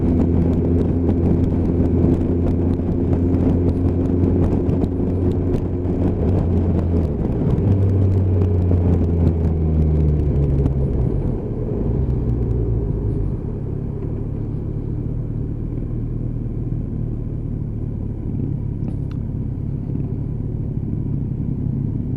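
GTR motorcycle engine winding up while riding in a staggered pack formation, a loud close rumble whose pitch climbs through the gears, then settles into a lower steady drone.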